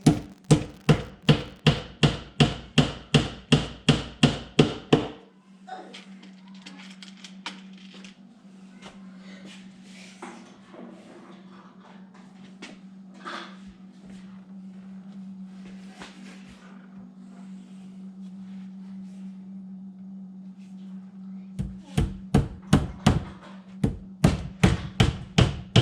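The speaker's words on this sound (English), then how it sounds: "When nailing, you need to make sure you're in the center of the wood frame" Sharp, evenly spaced hammer blows drive nails into a wooden cabinet frame for garage cabinets, a quick run of about a dozen strikes, then a quieter stretch with a steady hum, then another burst of hammering.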